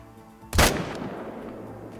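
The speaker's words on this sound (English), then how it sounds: "So I am just gonna take a long shot from right here." A single loud rifle shot fired at a piebald red deer during a hunt, a sharp close blast followed by a long reverberating tail that fades over the next second and a half.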